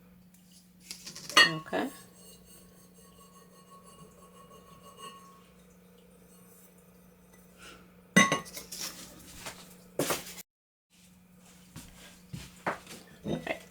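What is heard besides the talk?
opening the lid of a glass cookie jar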